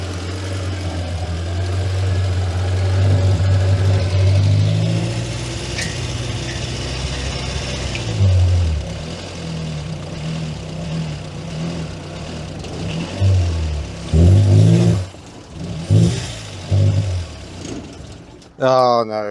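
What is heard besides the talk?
Morris Minor engine cranking via screwdriver across starter solenoid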